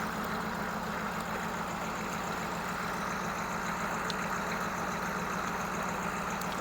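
A CUCV military truck's 6.2/6.5 diesel V8, restarted after running dry of fuel and bleeding the injection pump, idles steadily with a continuous clattering knock, close by and without speech.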